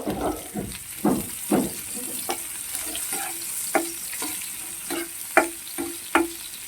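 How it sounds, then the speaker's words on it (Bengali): Chopped onions frying in a little leftover oil after fish, while being cooked for a pomfret recipe, sizzle steadily with repeated sharp scraping stir strokes close up, no talk. "পেঁয়াজগুলোকে ভেজে নেব"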